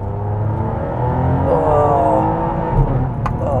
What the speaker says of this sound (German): Ich trete mal drauf jetzt